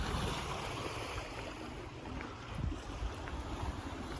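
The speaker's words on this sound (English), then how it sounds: "This big old sail is carrying us along" A sailboat glides under a big Code Zero sail in light wind, with a steady wash of water along the hull and rushing wind over the microphone, continuous and fairly quiet.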